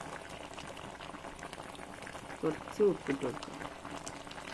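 Chicken curry with pidi rice dumplings bubbling at a steady boil in a pot, a soft continuous simmer under a voice speaking.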